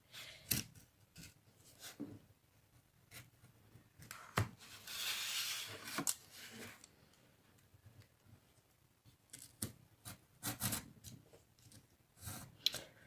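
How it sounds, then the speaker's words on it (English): Thick corrugated cardboard being cut by hand in several goes, with faint scattered snips and crunches, a longer scraping rasp midway, and more clicky cuts near the end in a quiet room. "this might take several goes to cut through the cardboard if you've got a thicker piece like this one that's corrugated"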